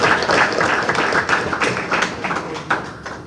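Applause from an audience at a cricket board town hall meeting in Nevis, a dense patter of clapping hands, steady and fairly close for a few seconds.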